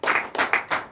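A church congregation claps in acclamation, three or four quick bursts of hand claps in a short rhythmic run.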